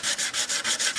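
A guitar body is sanded by hand with old, worn sandpaper, giving a close, hissing rasp in quick back-and-forth strokes, about six passes in one second.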